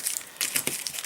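Old carpet is torn up from an RV slide floor in short, dry crinkling and ripping bursts, close and fairly quiet, with brief pauses between pulls.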